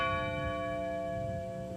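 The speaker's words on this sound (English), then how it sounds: "As the bells tolled in Shanksville, Pennsylvania" A sustained bell tone tolls in Shanksville, Pennsylvania, on the September 11 anniversary, ringing steadily with long overtones, resonant and moderately distant, fading slowly with no voices.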